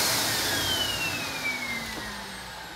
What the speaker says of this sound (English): it's a really nice pet dryer